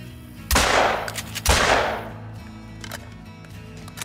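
Two loud booming shots, about a second apart, from a 12 gauge Cacciatore shotgun in the hunting game Call of the Wild, each with a long echoing decay across open terrain, then quieter ambient rustle.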